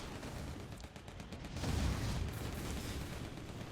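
Artillery fire in the strategy game Airmech, dull booming impacts and rumbling blasts that swell midway into a dense roar, moderately loud with no clear talk.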